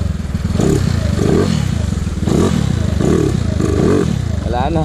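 Converted Yamaha Mio 218cc 4V fuel-injected motorcycle engine misfiring as it runs out of fuel, idling with an uneven, stuttering putter and repeated surging bursts, close up, with brief talk.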